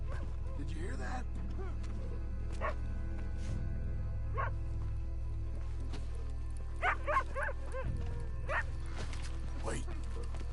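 A dog in Red Dead Redemption 2 gives several short barks and yips, some clustered together, over a constant low background hum, with a voice briefly present.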